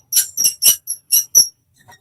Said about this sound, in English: that squeaking sound? Somebody turned on water in my house